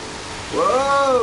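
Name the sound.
rain in the Driveclub racing video game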